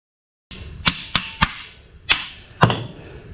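A hammer taps the rear wheel hub bearing of a 2014-2018 Subaru Forester: five sharp, close metallic knocks at uneven intervals, each ringing briefly.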